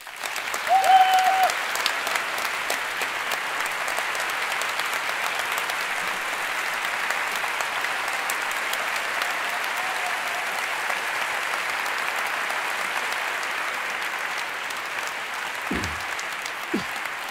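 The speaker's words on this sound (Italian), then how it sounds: "vi chiedo un applauso per Luca Sofri." Sustained applause from a live audience welcoming a journalist on stage at an Italian talk event, steady and fairly loud throughout, with a brief louder swell near the start and a short thump near the end.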